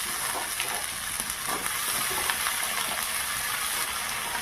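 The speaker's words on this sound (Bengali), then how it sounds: "এবারে কেটে রাখা ধুয়ে রাখা আলু এর মধ্যে আমি দিয়ে দিলাম।" Cut potatoes fry in a pan with browned onions, giving a soft continuous sizzle close by. A few faint stirring clicks come over it, with no speech.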